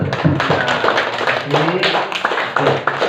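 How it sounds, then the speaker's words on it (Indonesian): Children in a classroom clap their hands together, loose bursts of clapping mixed with a teacher's voice and the chatter of kids close by. "kita berikan tepuk tangan dulu pada sekali lagi. Iya, tepuk tangan dulu."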